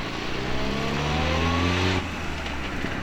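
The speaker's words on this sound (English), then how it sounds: "after watching a few rally cars go by to cheer us up" A rally car roars past at speed, its engine note rising and swelling loud and close for about two seconds before dropping away as it recedes.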